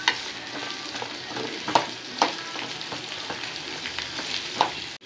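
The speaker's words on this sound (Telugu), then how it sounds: "ఉల్లిపాయలు టమాటాలు రెండు వేయించుకోవాలి" Onions and tomatoes fry steadily in a pan for a Telugu meal maker and potato kofta curry, a continuous sizzle broken by sharp scraping stirs of the spatula, close and fairly quiet, with no talking.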